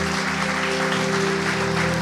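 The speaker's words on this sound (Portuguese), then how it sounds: "Vamos aplaudir-lo." A church congregation applauds together after a prayer, a dense, steady wash of clapping hands that fills the whole short stretch without pause.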